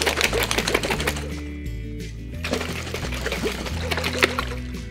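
Boiled eggs shaken vigorously in a lidded jar half-filled with water, giving a quick run of rattling clicks and sloshing knocks under steady background music, briefly pausing midway.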